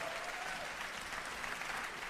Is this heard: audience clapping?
yes